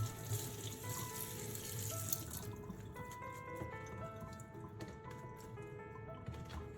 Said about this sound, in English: Rinse them again under running water and let them drain completely.